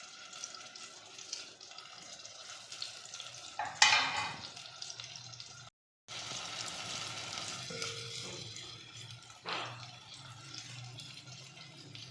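Minced meat and garlic sautéing in a pan, a low steady sizzle and frying hiss throughout, with a clattering stir or two and a brief break partway through.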